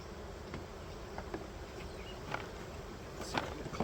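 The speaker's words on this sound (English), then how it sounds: "Oh, we got a couple bees in there." Honey bees buzz steadily inside an opened beehive split on a farm in June, a soft continuous hum with a few louder passes of individual bees flying close by, no talking.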